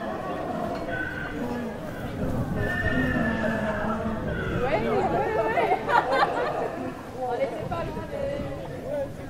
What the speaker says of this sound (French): Corentin, il va se promener un petit peu près des chevaux.